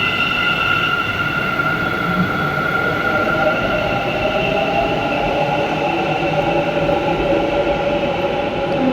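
A metro train rumbles steadily at an Indiranagar subway station in Bengaluru, a loud continuous roar with a sustained mechanical whine and no talking.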